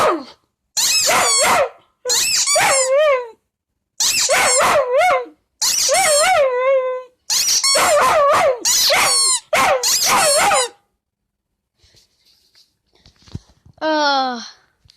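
Pet dog named Spot howls along to a squeaky toy in a series of loud, close, wavering yowls, roughly eight bursts over ten seconds, then a pause and one final howl.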